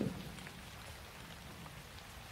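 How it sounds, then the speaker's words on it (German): Heavy rain pouring down in a steady, dense wash of drops, constant and moderately loud with no pauses, no voices and no thunder. "Es schüttet immer noch wie aus Eimern."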